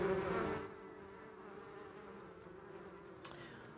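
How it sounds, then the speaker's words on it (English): Bees buzz in the video game Sorcery!, a low, steady hum that is louder for the first half second and then settles into a faint continuous drone, with one brief click near the end. "The sound of like bees buzzing and shit."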